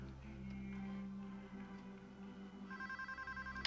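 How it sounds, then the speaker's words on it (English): In the PayDay 2 bank heist game, a telephone starts ringing in rapid repeated electronic trills near the end, over a steady low hum of background music and ambience. "One of you guys answer the phone and pass me through."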